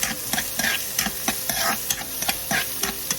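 Onion being stirred into a chayote and egg dish frying in a pan, quick repeated scraping strokes of a spatula over a steady sizzle, close and rhythmic, with no speech.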